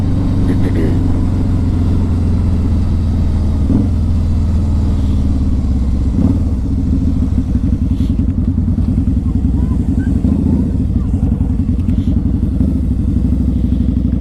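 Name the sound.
2003 Harley-Davidson V-Rod motorcycle riding on test drive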